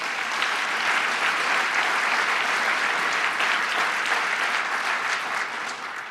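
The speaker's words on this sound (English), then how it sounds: "Give him a round of applause." An audience at a New York State public event gives a sustained round of applause, dense steady clapping that fills the room and holds throughout, tapering slightly at the end.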